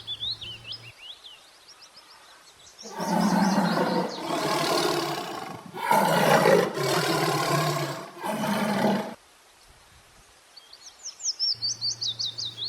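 A tiger roars in a sequence of loud, sustained bursts lasting several seconds, with chirping birds audible before and after the roars.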